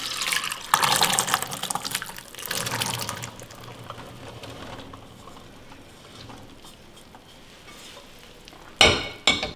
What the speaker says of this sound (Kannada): ಫಸ್ಟು ಇದರಲ್ಲಿರೋ ನೀರನ್ನ ಸೋಸ್ಕೊಂಡ್ಬಿಡೋಣ.